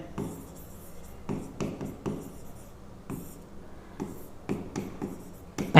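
A polynomial is written out by hand, pen or chalk strokes scratching in short irregular bursts with brief pauses between them, close and clear, with no talking.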